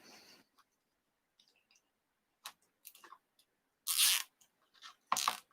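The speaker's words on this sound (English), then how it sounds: "I'm going to get both these ends and zip tie them together" A zip tie is pulled tight around the ends of a Christmas buffalo plaid deer wreath: faint scattered clicks and ticks, then two brief, louder rustling zips near the end, close up in a quiet room.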